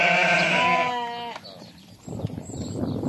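A sheep from a flock of about 350 young ewes for sale gives one loud, wavering bleat close by, followed by quieter shuffling and rustling from the flock.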